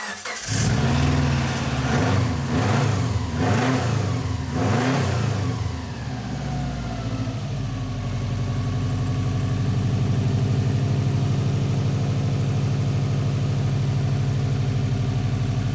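Subaru WRX engine, freshly swapped in from a JDM unit, cranks over and catches, revving hard a few times before settling into a loud steady idle with a faint rattle.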